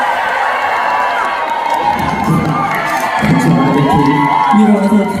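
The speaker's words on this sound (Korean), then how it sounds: "박수 잘한다 생각하시면 큰 박수 한번 주시겠어요?" Concert crowd at the 2023 Gyeongbuk Grand Concert cheering and clapping, a dense, loud roar of shrill shouts and whoops that swells slightly toward the end.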